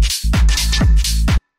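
A groovy tech house percussion loop pulses in a short, steady pattern of bright hits over a low driving thump, loud and close, cutting off abruptly into silence.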